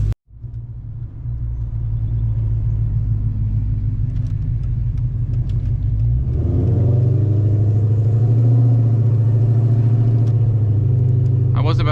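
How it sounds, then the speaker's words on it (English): A Dodge Challenger SRT8 idles steadily while warming up, a deep continuous rumble that swells louder and fuller partway through, close and alone with no talk. "I'm just gonna wait for the car to warm up a little bit before we head out here."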